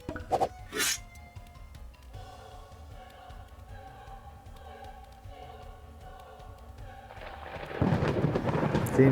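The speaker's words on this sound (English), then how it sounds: "Seems the rain has finally arrived." In the video game Together In Battle, a rumble of thunder cracks early and fades, then the hiss of rain builds toward the end, heard alone under a faint background music bed.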